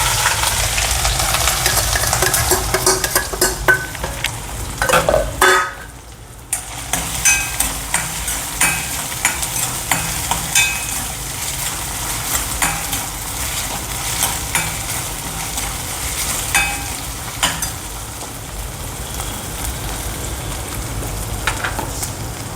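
Crushed ginger, green chili and curry leaves hit hot coconut oil after mustard seeds pop, giving a loud, continuous sizzle with scraping stirs and a brief dip in the middle, no talking.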